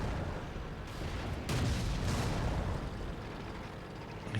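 Tank cannon fire from a Panzer 38 in World of Tanks: heavy low booms with a sharper crack near the middle, rumbling battle noise throughout and no speech.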